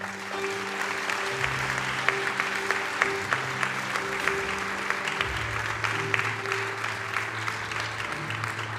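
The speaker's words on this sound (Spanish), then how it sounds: "Un aplauso al Señor" A church congregation applauds during a Spanish-language sermon on fasting and prayer, with loud, continuous clapping over low sustained organ or keyboard chords throughout.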